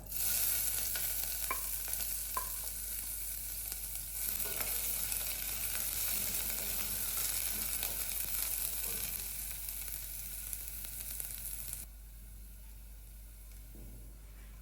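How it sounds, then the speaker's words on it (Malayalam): Continuous loud sizzle of onions sautéing in a pan with occasional stirring scrapes, dropping slightly quieter near the end. "നമുക്ക് സവാള ചേർത്ത് നന്നായിട്ടൊന്ന് വഴറ്റിയെടുക്കാം"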